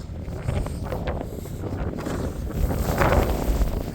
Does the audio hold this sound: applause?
no